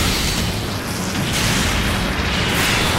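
A mine the player ran into detonates in the Gundam Breaker video game, a loud, dense, roaring explosion that holds steady for several seconds at close range, with no voices.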